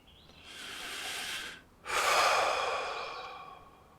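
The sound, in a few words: deep breath taken during a calming exercise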